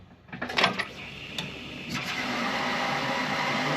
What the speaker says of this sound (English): Pump is kicking on.